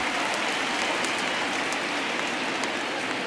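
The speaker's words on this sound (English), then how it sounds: "the conditions aren't ideal with the rain coming down" Rain falling during a rainy MLB The Show 19 baseball video game broadcast, a dense, even hiss of steady rainfall at moderate level with faint stadium ambience.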